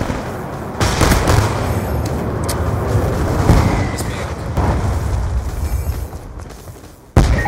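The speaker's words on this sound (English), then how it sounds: "Friendly Hellstorm missile inbound." Video game Hellstorm missile strike lands with a string of loud, booming explosions and rumbling blasts that continue densely across the scene, ending in a sharp final burst.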